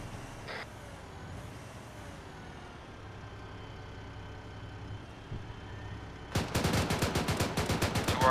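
A mounted vehicle gun opens up in a game, a fast, loud automatic burst of evenly spaced shots that follows several seconds of low engine rumble and faint background noise.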